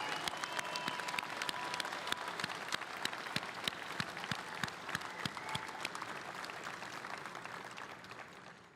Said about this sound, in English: Let's give a big round of applause for Joe on a job well done.